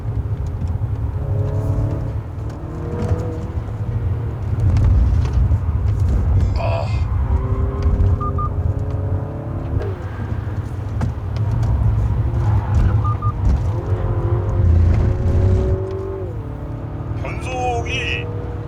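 A new JS Hyundai Veloster Turbo driven on the road, its engine droning and rising through gear shifts from inside the cabin, with someone talking over it.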